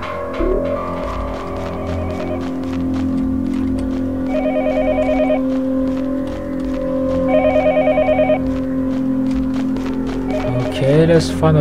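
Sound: telephone ringing in the video game Yomawari Night Alone

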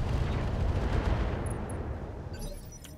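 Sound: mech weapons firing in video game RogueTech (BattleTech)

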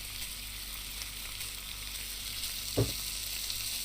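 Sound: salmon frying in a pan, from video game Cooking Simulator

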